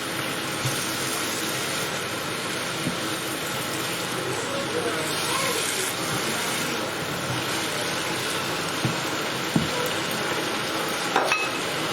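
Mushrooms and spices sizzle steadily in a pan while being stirred, a dense continuous fry with occasional scrapes and taps from the utensil.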